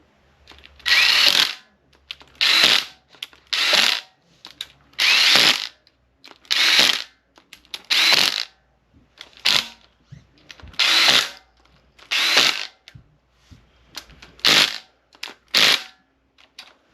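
A power tool tightening down parts on a Chevy 4.8 engine, about a dozen loud, close, rattling bursts of a second or less, separated by short pauses.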